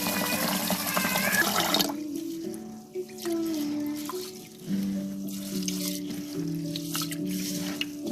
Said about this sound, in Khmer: ឥឡូវយើងលាងអង្ករឲ្យស្អាតសិន